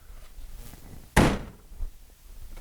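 The door of a GMC motorhome, with its striker plate adjusted, swings shut with a single sharp, close slam, followed by faint shuffling.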